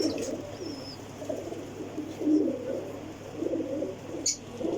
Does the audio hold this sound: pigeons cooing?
yes